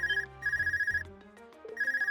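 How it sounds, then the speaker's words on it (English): In the video game Trails of Cold Steel, a cell phone rings with a bright electronic trilling tone in repeated bursts, clear and close over soft background music. "Is that your cell phone ringing?"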